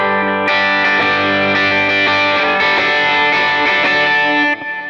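An electric guitar run through effects and distortion rings out one thick, sustained chord, changing shape soon after the start and holding loud and bright before cutting off near the end.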